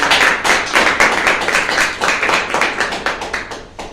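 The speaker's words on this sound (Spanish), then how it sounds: "Dale un fuerte aplauso al Señor." Dense, steady clapping from a church congregation, many hands at once filling the room with loud, continuous applause and no talking.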